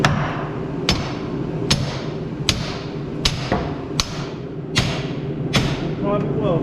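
Heavy hammer blows drive a track pin on a Gehl paver, eight loud, sharp metallic strikes at a steady, slightly uneven pace over a constant low engine drone.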